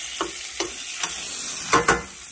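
Meatballs, sausages and big pieces of pork browning in a pan, a low sizzle broken by several sharp scraping stirs, close and fairly quiet with no talking.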